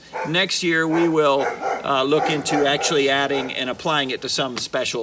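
Dogs bark in the background beneath continuous talking during an online presentation, staying behind the voice throughout.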